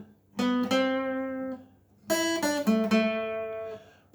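An acoustic guitar picks out the House of the Rising Sun melody note by note, two short phrases of plucked strings ringing and decaying close by, with a brief pause between them and no talking.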